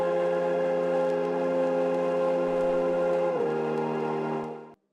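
Sustained deep house synth chords layered with ambient atmosphere pads, loud and steady, with the chord stack sliding down slightly near the end before cutting off abruptly.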